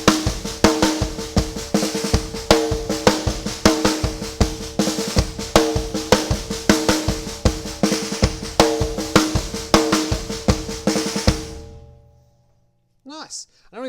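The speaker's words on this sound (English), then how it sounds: "let's now add in those double stroke rolls" A drum beat centred on the snare, with quiet double stroke rolls in thirty-second notes on the upbeats, steady and loud with busy repeated hits before stopping, followed by a brief voice.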